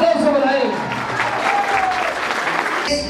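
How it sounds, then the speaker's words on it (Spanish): Audience applause for Robertino Romero, a local councillor, at a Mother's Day celebration in a neighbourhood. Steady, full clapping runs throughout with a voice speaking over it at the start. "Un aplauso para él."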